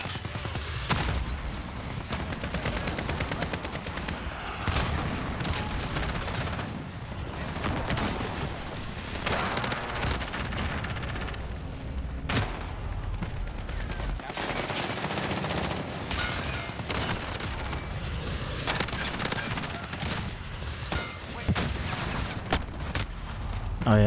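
Dense gunfire from the Call of Duty Modern Warfare match on the Shipment map, with rapid automatic bursts and heavy booms overlapping almost continuously, loud and close throughout.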